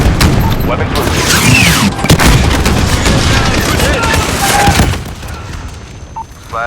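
Aircraft rocket strike in Modern Warfare, a heavy rolling barrage of explosions and gunfire, loud and dense for several seconds before easing off, with radio chatter mixed in.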